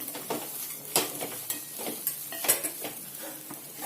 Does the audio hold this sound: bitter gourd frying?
yes